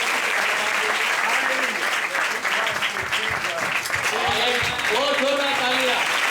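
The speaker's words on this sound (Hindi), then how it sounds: "अपने तालियों को बजा के" A congregation at a church meeting in India claps hands together, dense continuous applause mixed with voices and tonal music, loud and close.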